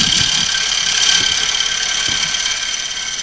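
Dry sycamore spins on a wood lathe, a loud steady whine with high mechanical tones and a few soft knocks of the tool cutting shavings, no talk.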